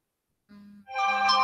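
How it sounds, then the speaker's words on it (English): A mobile phone ringtone starting abruptly with a short low tone, then a bright, rich melodic chime that plays on loudly and close, with no voices. "oh, my phone's blowing up."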